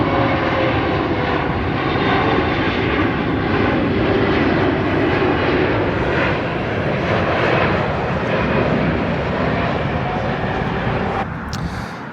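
A jet airliner landing at LAX during reverse operations, a steady loud roar of engines that holds for the whole stretch before easing slightly at the end, heard alone without talk.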